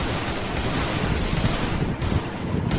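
Gunfire in a shooting video game, a dense loud burst of rapid shots and booming impacts that fills the whole short stretch without pause.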